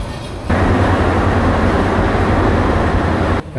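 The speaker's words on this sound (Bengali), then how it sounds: "8:35-এ আমাদের ট্রেন শ্রীমঙ্গল থেকে ছেড়ে দিল।" Kalni Express pulling out of Sreemangal station in Bangladesh gives a steady, heavy rumble and rattle of moving carriages. The sound holds for about three seconds, up close and continuous.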